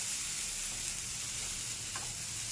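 Raw papaya pieces sauté in a pan over a slow flame for chutney, giving a steady, moderately quiet sizzle with faint stirring and no talk.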